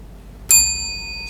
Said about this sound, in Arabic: هو لازم يدوس الجرس